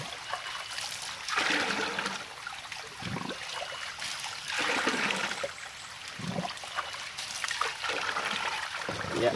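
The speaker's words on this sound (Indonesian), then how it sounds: "Kita campur air ya guys, ini untuk ukuran satu tangki ya, atau 15 liter air." Water pours and splashes into a 15-liter sprayer tank while fertilizer is mixed, a steady close trickling stream with surging, gurgling swells.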